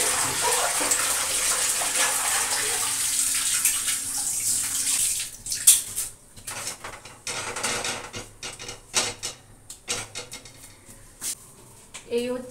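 Bottle gourd stems get washed, with a steady rush of running water at first, then irregular splashing, sloshing and clattering as they are handled in the water.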